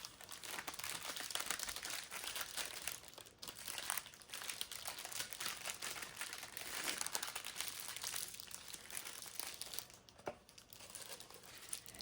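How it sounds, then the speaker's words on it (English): Butter being wrapped in parchment paper, a continuous close crinkling and rustling of the paper as it is folded around the block, with no talk over it. "Now we're going to grab a piece of parchment. Okay. And we are going to wrap"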